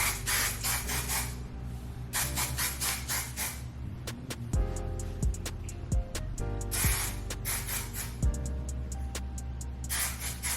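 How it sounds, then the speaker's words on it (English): Chi hairspray is spritzed onto freshly curled hair in several long hissing bursts, with a short pause and a later spray toward the end, all over steady background music. "Finished curling my hair, so I'm just gonna spray them with this Chi hairspray"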